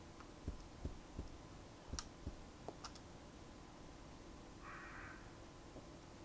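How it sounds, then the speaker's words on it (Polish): Ravens caw in the survival horror game Resident Evil 0, set in a training facility: several sharp, scattered calls come over a quiet, hollow ambient drone, followed by a brief soft hiss. "Kruki."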